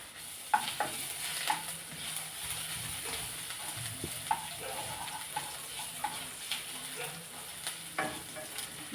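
Bathua greens cooked with ginger sizzle softly in a pan while a utensil stirs them, giving scattered light scraping clicks over a faint, steady frying hiss, close and quiet.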